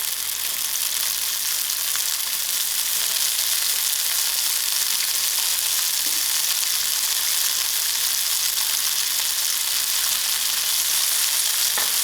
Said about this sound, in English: now I'm going to add in my broad beans and give it a 5 minutes to fry out quickly